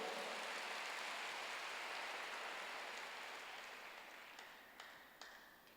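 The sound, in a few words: congregation applause in church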